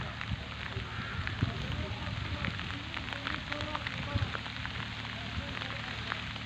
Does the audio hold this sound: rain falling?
yes